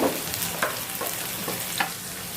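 Spiced onion paste frying in hot oil for a Bengali chicken dish, giving a steady close-up sizzle and hiss with a few soft stirring scrapes, and no voices.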